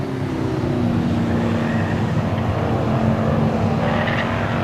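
A race car at Claremont Speedway rolling back onto the track during weekly racing in 1990, with a steady, loud engine drone and a faint tire squeal, heard continuously without any talk.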